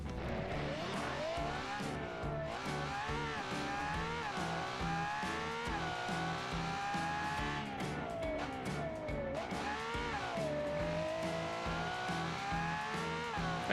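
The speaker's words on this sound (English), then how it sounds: "Automation cars, not the greatest in sounds for race cars." Race car engine in the game Automation, a buzzy, scratchy high-revving drone that climbs and drops in pitch through repeated gear changes, steady and prominent with no talk over it.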